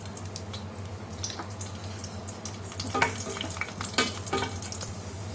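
Raisins fry in ghee for rava ladoo, a steady bubbling sizzle with quick crackles and a few louder stirring scrapes near the end, without any talk.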